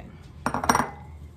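A bowl and spoon clatter and clink together in a kitchen while a cake is decorated, a brief burst of metal-on-dish knocks lasting under half a second.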